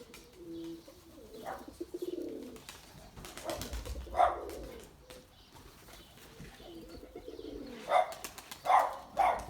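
Domestic pigeons coo in low, rolling bursts near a loft while wings flap and clatter intermittently, with a few sharper calls and scattered knocks between the cooing.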